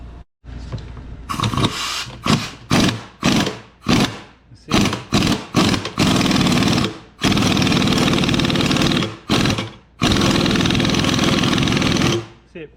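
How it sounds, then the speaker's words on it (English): A press pushing a metal bushing into a GM 2500 HD front suspension control arm, loud repeated bursts of pumping machine noise, short pulses at first and then longer sustained runs with brief pauses. "See, it presses in pretty smoothly."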